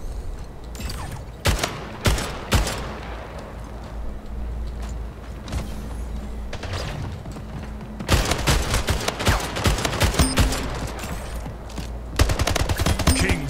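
Rapid assault rifle bursts in the shooter game Splitgate, loud and close, with repeated volleys and brief pauses between them.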